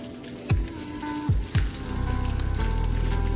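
Cabbage dropped into a hot pan of cooked-down bacon, with a few thumps followed by a loud, steady sizzle of frying that builds and holds.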